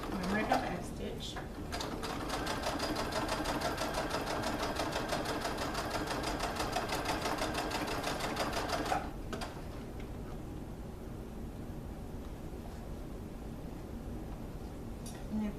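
A domestic sewing machine runs a steady, fast stitch across the top edge of a large fabric tote bag, close and continuous for about nine seconds before stopping, leaving quieter room noise.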